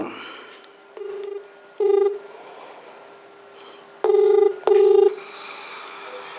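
A telephone number is dialed on a phone, with a few short tone beeps spaced out, then two longer, louder tones close together, faint hiss between them.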